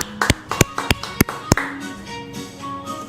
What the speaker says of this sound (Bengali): হাততালি, দারুণ আছে।